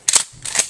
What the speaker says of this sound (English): More double-aught buck is in the chamber right now.